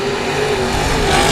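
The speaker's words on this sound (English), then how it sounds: "Cars battling side by side into 1." Race cars at 281 Speedway thunder side by side into a turn, a loud, continuous engine roar with a steady droning pitch that swells slightly toward the end.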